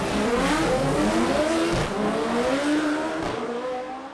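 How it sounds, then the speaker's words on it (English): A Lamborghini fitted with Garrett turbos and intercooler accelerates hard at the SEMA Show, its engine a loud, close roar that rises in pitch and holds steady with no voices. "Even a Lamborghini can do a wheelie."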